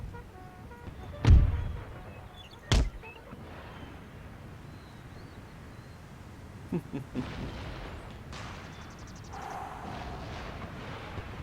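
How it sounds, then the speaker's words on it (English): Cannon and musket fire on a battlefield in Empire Total War: two heavy, booming cannon blasts, then scattered fainter pops of musket shots over a low rumbling background. "Guns are beginning to fire."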